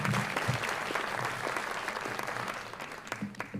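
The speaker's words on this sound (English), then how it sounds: "give them a round of applause" A summit audience claps steadily, a dense patter of applause that slowly thins toward the end.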